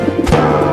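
A brief, soft pigeon coo sounds close by, a low throaty call lasting under a second with no talking.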